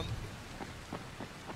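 Steady rain in the Dying Light video game, a soft continuous hiss with faint, evenly spaced patters, quiet and without any talking.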